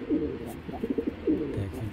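Giribaz pigeons coo in a loft, several low rolling coos and short pulsing calls in quick succession, close and moderately loud.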